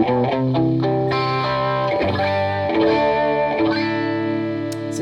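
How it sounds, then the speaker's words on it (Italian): Electric guitar played through a light CE1-style chorus in an AmpliTube rig, sustained distorted chords and notes with a gentle shimmering widening, loud and alone with no talking. "Il primo effetto è il chorus e io l'ho tarato sul mio preset come se fosse un CE1, quindi un effetto molto leggero"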